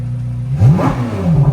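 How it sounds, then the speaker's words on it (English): A 2024 Corvette Z06 with a 5.5L flat-plane-crank engine idles, then revs sharply in a quick rising burst before settling back, followed by a second short rev. "then we'll turn on the lights, and then we'll give it a few revs here"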